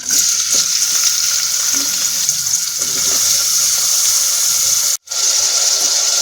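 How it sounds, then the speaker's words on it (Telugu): Two chopped onions sizzle in oil with bay leaf and cardamom inside a small pressure cooker, a loud, constant frying hiss with faint clinks, cut off by a brief silence near the end before resuming. "ఇప్పుడు అందులోకి కట్ చేసుకున్న రెండు ఉల్లిపాయలు వేస్తున్నాను"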